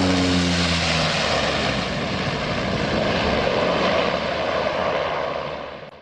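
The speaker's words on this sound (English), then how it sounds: "This plane is too fast and caused a little bit of turbulence" A loud, steady propeller aircraft roar with low engine drone as the plane lands at Talcha airport in Nepal, sustained throughout and fading slightly at the end.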